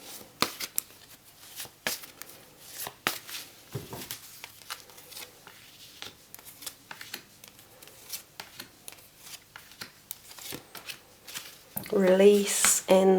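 Tarot cards are shuffled and drawn during a reading, soft scattered flicks and paper slides under quiet spoken narration, close and intimate, with a louder burst of talk near the end.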